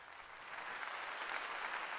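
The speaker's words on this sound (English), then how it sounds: "Let's all give Deanna a round of applause" Audience applause at the opening session of a World Scout Youth Forum, a steady wash of clapping held at an even level throughout, fairly faint and alone with no speech.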